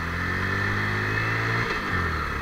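A Honda CB110 motorcycle idles steadily while being turned around, its low engine note holding even and close, with a brief dip near the end before settling again.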